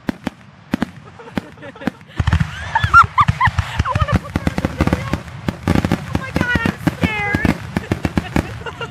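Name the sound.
fireworks finale exploding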